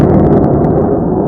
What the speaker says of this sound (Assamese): আপুনি ভিডিঅ'ত প্লেনৰ শব্দ